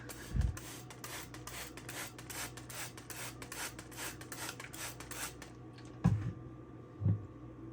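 A silicon carbide sharpening stone is rubbed over coarse 46 grit SiC powder to flatten it, giving a steady close gritty rasping scrape that stops near the end, followed by a few isolated thumps.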